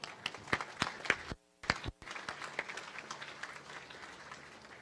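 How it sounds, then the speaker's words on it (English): An audience at the christening of the salvage and rescue ship USNS Navajo applauds the Navy Band Southeast and a color guard. Scattered claps sound at first, drop out for a brief gap, then swell into steady applause. "please join me in a round of applause for the Naval Construction Battalion 11 Color Guard and the Navy Band Southeast"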